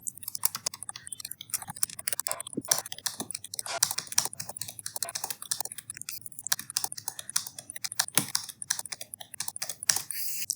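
Fast, steady typing of C code on a computer keyboard, dense close key clicks with occasional louder strikes, continuous and alone.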